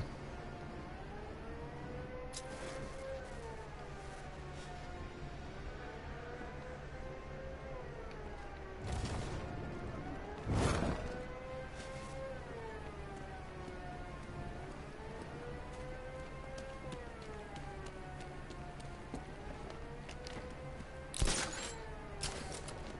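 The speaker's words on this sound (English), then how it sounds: "Siren." A wailing siren rises and falls repeatedly in long, slow sweeps, moderately distant, over steady background noise with a few louder knocks.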